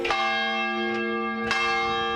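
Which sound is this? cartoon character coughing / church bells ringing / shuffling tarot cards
church bells ringing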